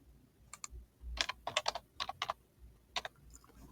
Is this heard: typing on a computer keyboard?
yes